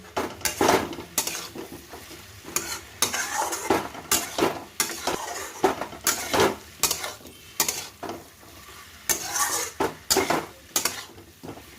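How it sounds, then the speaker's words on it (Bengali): Fish roe tossed into frying spice paste is stirred in a pan, a steady rhythm of loud metal spatula scrapes and clanks against the pan over a soft sizzle, close up with no talking. "মশলা কষে গেছে, এবার ডিমগুলো দিয়ে দিই।"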